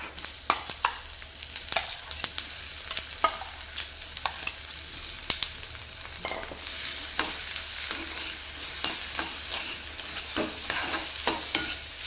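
Mashed potato being stirred and fried in a hot pan for a vada pav filling, with steady sizzling under repeated scraping strokes of a spoon against the metal, close and continuous with no talking.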